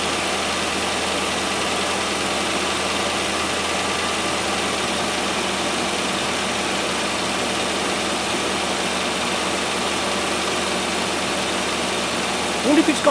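A 1997 Land Rover Discovery 1 engine idles slightly high, a steady, even drone with constant vibration running unbroken throughout at close range.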